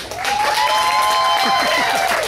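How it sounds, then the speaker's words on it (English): A comedy club crowd applauds briefly after a birthday shout-out, a dense wash of clapping with a sustained tonal whistle or hum running above it. "Give him a round of applause"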